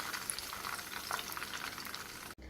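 Chicken shashlik skewers fry in a pan with a steady, close hiss and crackle that runs unbroken, then cuts off abruptly just before the end.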